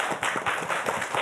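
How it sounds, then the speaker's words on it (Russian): An audience claps in a short, dense burst of applause from a television studio crowd, moderately loud with no voices on top. "Эти аплодисменты вам."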